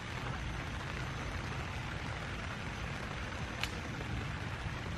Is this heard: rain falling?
yes